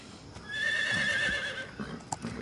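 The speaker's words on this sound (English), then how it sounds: "Now let's go investigate that horse." A horse in Metal Gear Solid 3 Snake Eater lets out a loud, drawn-out neigh that rises and fades over about a second, followed by a few soft hoof and movement sounds nearby.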